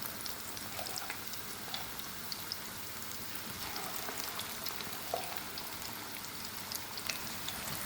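Chicken pakoras deep-frying in hot oil give a steady, dense sizzle with scattered small pops and crackles, continuous and close throughout, with no voices.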